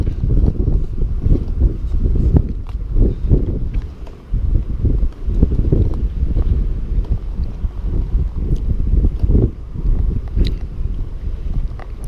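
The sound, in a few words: wind blowing through a yacht's rigging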